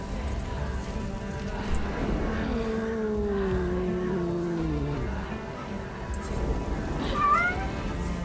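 A cat meows repeatedly in the 1666 Amsterdam video game, long drawn-out wavering cries up close over a steady low background hum, followed by a shorter chirpy call near the end.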